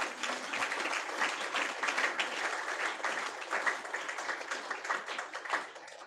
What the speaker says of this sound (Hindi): एक बार ताली बजाकर महिमा करो प्रभु की।